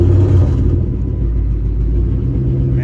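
A 2005 Chrysler 300C engine cranks and catches, settling into a steady, loud, low rumbling idle that runs a little rough, heard close up with no talking.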